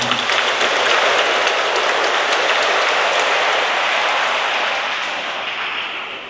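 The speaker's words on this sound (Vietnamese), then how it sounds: "Và quý bạn chị em cho một tràng pháo tay để chúc mừng." A church congregation applauding, a dense, loud, steady wash of many hands clapping together that fades gradually toward the end, no voices.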